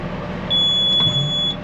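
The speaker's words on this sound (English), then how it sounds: "So we'll get a first beep to warn us that it's nearly ready." A round baler gives a single sustained electronic warning beep, high and clear, sounding for about a second over a low machinery hum.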